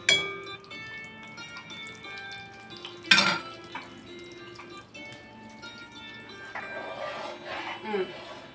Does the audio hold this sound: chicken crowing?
no